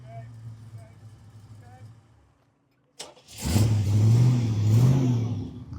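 A Chevrolet Camaro SS with straight-pipe exhaust idles with a low rumble, goes briefly quiet, then fires up loudly and revs with a deep, throaty roar at an outdoor car meet; a voice speaks early on.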